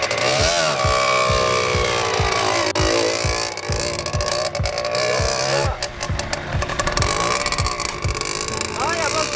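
A motocross motorcycle engine revs repeatedly close by, its pitch rising and falling in quick bursts during a riding test, while someone talks over the loud, rasping engine.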